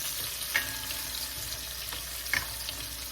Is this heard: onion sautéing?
yes